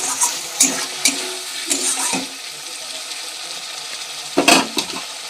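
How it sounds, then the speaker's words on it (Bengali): Water poured into a pan of fish curry with potato and papaya, giving a short splashing pour followed by light stirring and clinks of a utensil against the pan. "এবার একটু জল দিয়ে দেবো"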